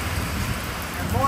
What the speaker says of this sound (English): I'm not liking it too much because it's a cross rain. There are severe, severe thunderstorms.